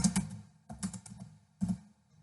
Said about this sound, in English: I am typing here company law.